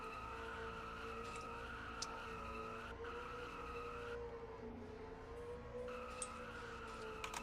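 Race cars spin their tires in burnouts in a racing video game, a steady loud tire squeal and engine drone running throughout with a brief dip in the middle.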